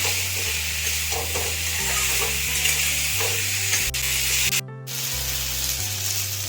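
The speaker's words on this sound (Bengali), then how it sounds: "সবজিটা অল্প ভেজে নেব, অল্প সিদ্ধ করে রেখেছিলাম।" Parboiled potato, yam and cabbage frying in a pan on a home kitchen stove, a steady close sizzle with stirring scrapes and a brief dropout midway.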